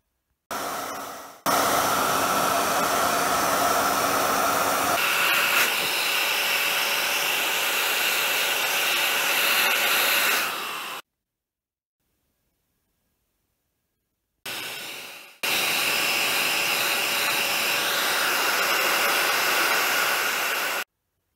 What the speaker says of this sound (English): So the hairdryer really is key.